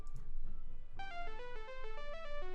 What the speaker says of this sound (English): Let's have a ringtone spoil it